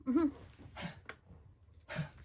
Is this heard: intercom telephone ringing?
no